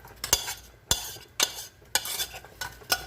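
A spoon stirs a thick baked beans mixture in a pot, giving five or six soft, regularly spaced scrapes and knocks against the pot, quiet and close with no voices.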